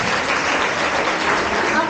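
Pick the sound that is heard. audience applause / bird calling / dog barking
audience applause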